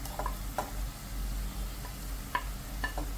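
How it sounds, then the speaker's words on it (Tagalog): Chicken breast pieces and onion sauté in a pan with a soft, steady sizzle, broken by a few sharp scrapes and clinks of a utensil stirring, close up and fairly quiet. "Tapos igisa lang natin ang chicken breast na hiniwa ko lang ng medyo maliliit."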